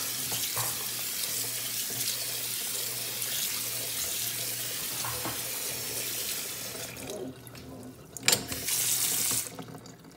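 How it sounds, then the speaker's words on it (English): Cold water runs from a kitchen tap over cooked macaroni noodles, a steady splashing hiss that shifts and brightens near the end with a brief clatter, close by and with no talking. "Now we're gonna need to run cold water over it"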